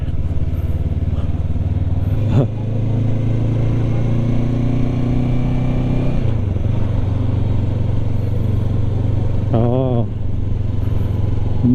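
A Honda NX500 motorcycle climbs a hill road near the Khun Dan Prakan Chon dam, its engine droning loud and steady, with gear shifts and a rise in revs late on, under wind rush.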